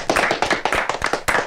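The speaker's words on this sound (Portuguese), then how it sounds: "Não, salve de palmas." A few people clapping hands in quick uneven bursts, close and fairly loud, each clap sharp and separate, with brief gaps between runs and no talk over them.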